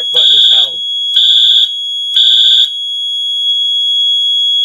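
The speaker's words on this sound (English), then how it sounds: "The horns, the strobe, and the panel buzzer continue to sound because they're non-silenceable." Three loud, steady high-pitched fire alarm horn blasts during a Fenwal 3220 halon system test, each about half a second, evenly spaced, followed by a faint continuous panel buzzer tone; brief voice at the start.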